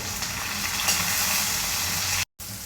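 Chopped tomato goes into a pan of cooked onions and sizzles, a dense, steady hiss of frying close up that stays even for over two seconds before a brief cut.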